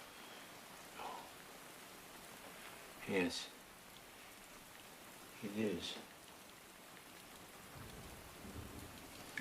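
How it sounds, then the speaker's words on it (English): Rain falls with a soft, steady hiss over the whole scene. A few brief spoken words rise above the quiet patter. "The rain, I mean."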